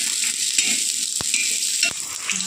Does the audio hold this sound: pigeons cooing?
no